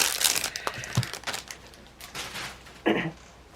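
Paper packaging of a Hobonichi Weeks notebook being ripped open, a close burst of crinkling and tearing with sharp bursts, pauses, and a final loud rip near the end.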